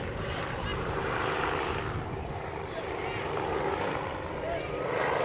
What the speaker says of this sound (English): Helicopter coming into land. It'll get a little bit noisy.